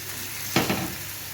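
Chicken breast on a grill gives a steady close sizzle with a sharp brief burst of spitting and crackle midway, no voices.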